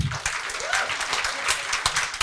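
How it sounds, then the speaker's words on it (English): Audience applause for award winners at a behavioral health conference, dense clapping from a room full of people, close and lively, with a few voices faintly mixed in. "So a round of applause."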